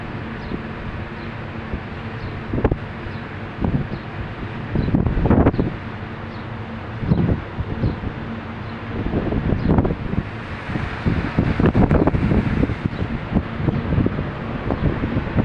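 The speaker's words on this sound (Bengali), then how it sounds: "দেখেন কিভাবে চলতেছে হাওয়া" Strong wind blows across a building rooftop near poultry farm sheds, roaring and buffeting the microphone in rough gusts that swell and fade over a constant low rumble.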